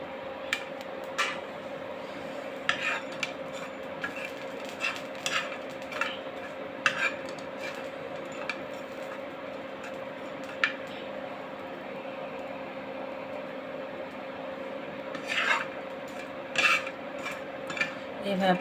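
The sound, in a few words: stirring dried fish frying in a pan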